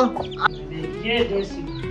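Desi chickens cluck in a village yard: short, uneven clucks and squawks from several birds nearby, with people talking over them.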